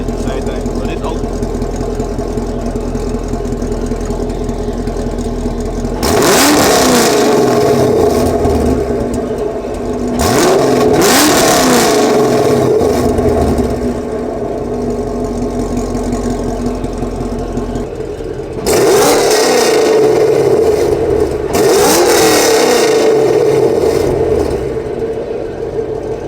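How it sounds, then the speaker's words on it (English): A 2019 Camaro SS with a muffler delete and MSD 2-step idles with a low rumble, then blips loudly twice with exhaust valves open, settles back, and revs twice more with valves closed, each rev rising sharply then falling. "give it a couple rails when it's open, and I'm gonna switch it to closed."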